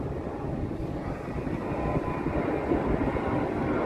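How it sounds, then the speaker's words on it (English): An airplane passing overhead above Saint Vincent gives a continuous low, broad roar that holds steady and swells slightly louder toward the end. "See the plane, yeah?"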